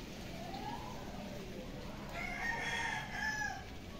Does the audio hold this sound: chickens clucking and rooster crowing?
yes